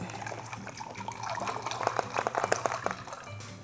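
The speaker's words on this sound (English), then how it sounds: "I take a bottle of water and add it to the cup." Water poured from a bottle into a cup that holds ice, a close gurgling trickle that grows busier and splashier as it goes, with small clinks toward the end.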